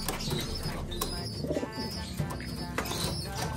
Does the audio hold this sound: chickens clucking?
no